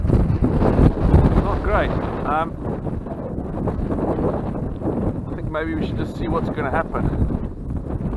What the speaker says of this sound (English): The wind's really getting up. I don't know whether you can hear the wind.